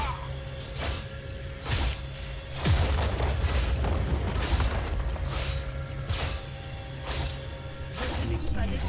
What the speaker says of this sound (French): Votre équipe a détruit une tourelle.